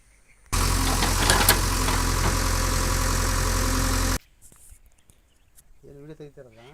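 A JCB engine idles loudly and steadily for about four seconds, then cuts off abruptly, followed by quiet background and a voice speaking near the end.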